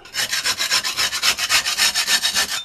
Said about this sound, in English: very thick putty knives that I don't mind scratching on concrete.